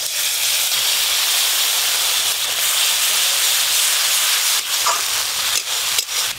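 Mustard paste goes into a hot pan with spiced, melted tomatoes and sizzles in a steady, bright hiss that carries on without a break.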